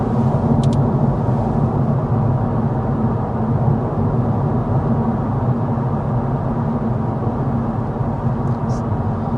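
Steady road and engine drone inside the cabin of a 2025 Kia K4 compact sedan cruising at 55 mph, a continuous low rumble with tire hiss and a couple of faint clicks.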